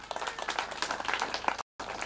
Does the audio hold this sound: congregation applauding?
yes